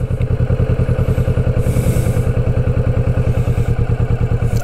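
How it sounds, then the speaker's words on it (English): A Kawasaki Vulcan S motorcycle engine idles with a rhythmic, thumping pulse, its revs sagging slightly as the clutch engages and the gear grabs; faint clatter rides over the beat. "you can hear the revs drop a bit, and there's the big gear beginning to grab"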